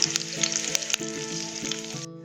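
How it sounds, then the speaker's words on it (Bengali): Chopped garlic sizzling in hot oil left over from frying chicken, a steady bright crackle with a few clinks near the start, close and fairly loud, cutting off sharply at the end. "এবার ওই তেলেতে আমি দিয়ে দেব চপ করা রসুন। একটু ফ্রাই করে নেব।"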